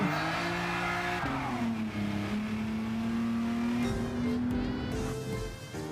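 A Renault Avantime car engine in Gran Turismo 7 holds a steady droning pitch that rises and falls with acceleration, with tire noise underneath, loud and continuous without speech.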